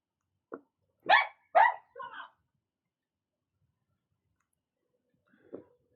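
Dogs bark a few times outside a store, a quick cluster of sharp, moderately near barks followed after a pause by one fainter bark, with no talk over them.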